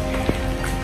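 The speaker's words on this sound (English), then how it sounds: "So now, as you can see, it is raining" Steady rain falls outdoors on a day of sightseeing in Scotland, a constant close hiss of drops with one brief louder splash partway through and no talking.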